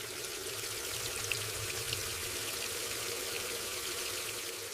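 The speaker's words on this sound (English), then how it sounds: "I am washing some vegetables." A kitchen tap runs steadily while vegetables are washed, a continuous close wash of water with a few faint drips and clinks, no voices.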